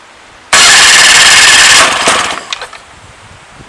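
A Mercury 9.8 electric-start outboard motor bursts into life after a short crank, roaring loud and raspy for over a second before the revs drop and sputter unevenly into a rough idle.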